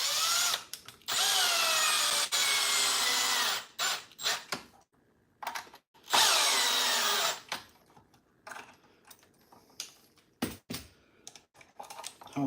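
A power tool drives screws into a Traxxas XRT RC truck in several loud whining bursts, each a second or two long, separated by quiet gaps filled with small clicks and handling noises.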